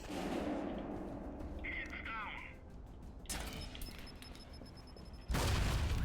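A grenade explodes in the stealth action RPG Alpha Protocol with a sudden loud, broad boom near the end, after in-game speech and ambient gunfire-like rumbling.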